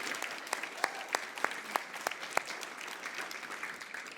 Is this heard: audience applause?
yes